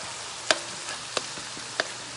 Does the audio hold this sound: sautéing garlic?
yes